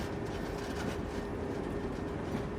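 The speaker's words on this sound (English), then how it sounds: "the train sets off again." Steady low rumble of a train setting off from a station and rolling along, a continuous mechanical drone with faint rhythmic rail noise, no voices.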